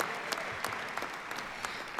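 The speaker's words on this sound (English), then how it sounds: "Yeah, it's okay to applaud for yourself." Audience applauding graduates at the Embry-Riddle Aeronautical University Prescott fall commencement ceremony, a dense sustained burst of clapping from a large crowd in a hall, loud and steady throughout.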